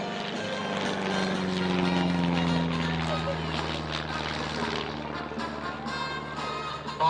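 All-metal aerobatic propeller aeroplane with a Rolls-Royce engine flying at an air display, its engine drone droning steadily at middle distance beneath a commentator's voice.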